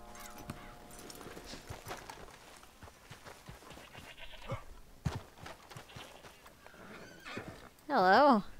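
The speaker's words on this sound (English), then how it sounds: "I guess I hear a goat." Livestock in the Red Dead Redemption 2 game world, with a horse's whinny, soft clip-clop, scattered faint animal calls and a player talking throughout, ending in a loud wavering bleat-like cry.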